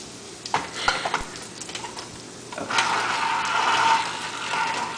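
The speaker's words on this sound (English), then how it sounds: "Sorry guys, I suck at working can openers" Manual can opener cranking around a can of beef broth gives a ratcheting, clicking grind, with a brief squeaky stretch and then a steadier metallic whir, close and moderately quiet.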